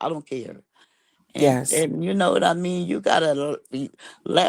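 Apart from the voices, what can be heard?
No distinct noise like a dog, phone or traffic.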